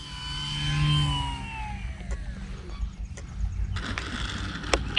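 E-flite Commander mPd 1.4m aerobatic RC plane motor at full throttle, a loud whining drone that sweeps down in pitch as the plane passes, then continues fainter with outdoor wind noise.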